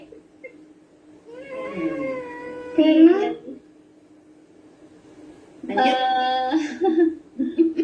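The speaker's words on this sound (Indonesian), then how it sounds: "saya gagal fokus lihat kucing" A cat meows twice during an indoor talk on healthy fasting: a drawn-out, wavering call followed a few seconds later by a shorter, brighter one. Both stand clearly over a quiet, steady room hum.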